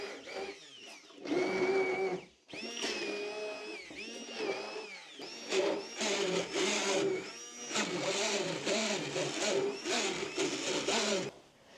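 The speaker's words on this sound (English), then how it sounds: "So I've mixed it with the stick blender now for about 5 minutes" A stick blender mixes reclaimed clay and water in a bucket in a pottery studio, its motor whirring loudly in repeated bursts whose whining pitch rises and falls, with short pauses between the runs.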